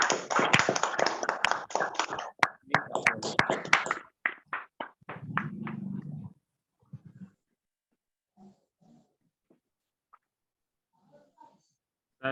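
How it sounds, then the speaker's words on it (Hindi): A group gives a welcoming round of applause, a few seconds of dense clapping that thins into scattered claps and then fades into near silence with faint stray sounds. "एक बार सभी साथी एक बार इनका जोरदार तालियों से वेलकम करेंगे नए पर्सन का"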